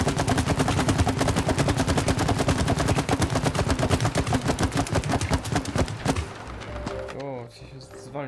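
Rapid gunfire from the video game It Takes Two, with dense continuous automatic shots for about six seconds that then give way to quieter game effects.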